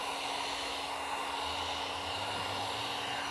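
Heat gun blowing hot air onto vinyl wrap on a Tesla Model Y mirror, a steady, close, unbroken airy roar with a constant whine, no voices.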